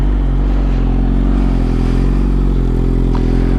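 A Yamaha R6 sport bike engine drones loudly nearby, a steady buzzing rev held throughout with no talk over it.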